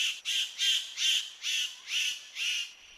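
A Superb Bird of Paradise calls to attract a female, giving a run of about seven harsh, buzzy rasping notes in a regular rhythm, fairly faint and alone against quiet forest background.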